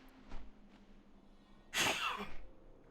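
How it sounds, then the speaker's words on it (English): A single close human sneeze bursts out sharply near the middle, preceded by a couple of faint breaths, in an otherwise quiet indoor setting. "Ugh, I had to sneeze."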